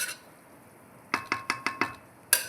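A spoon knocks and scrapes against a metal pot while boiled moong dal is stirred into sothi kuzhambu, about six quick clinking strokes in a row, faint and close, followed by one last clink.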